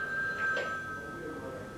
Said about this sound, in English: phone is ringing. They're trying to get in touch with me now.